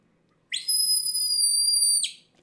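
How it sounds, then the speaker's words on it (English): A single piercing, high-pitched shepherd's whistle blast holds steady for about a second and a half, loud and clean against near silence. "So, a shepherd's whistle."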